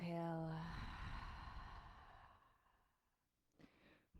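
A long, audible exhale during a power yoga session at a fitness studio, a soft breathy sigh that fades into quiet, followed by a faint brief breath near the end.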